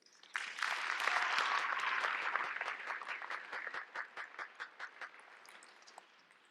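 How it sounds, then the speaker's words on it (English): Commencement audience at Carnegie Hall applauding, a dense burst of clapping that swells quickly then thins into scattered individual claps before fading out. "Please take a moment to give our family and friends a round of applause"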